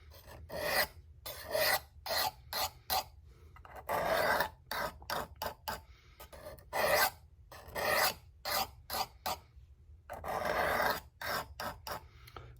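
A Civivi Nitro V knife with green canvas micarta handle is drawn over a sharpening stone in close, rhythmic rasping strokes, short bursts separated by brief pauses and quicker clusters, with no talking.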